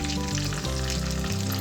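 Tempering sizzles in hot oil in a pan while masala pulihora is being made, a steady, close, continuous crackle of frying with no pauses.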